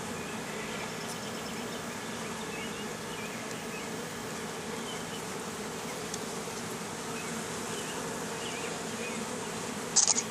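Honeybees buzz around an open hive being inspected, a steady dense drone close by that fills the whole stretch without pause, with a brief louder rustle near the end.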